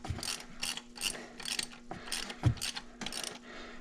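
A hand ratchet snugging a spark plug on a 2010 Nissan Murano, close-up bursts of rapid clicking pawl in several short repeated strokes with brief pauses between them.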